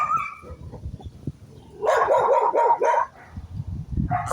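A dog in a large village barks in a short loud burst of several yips and barks after quieter whimpering and shuffling, during a chase involving a cat.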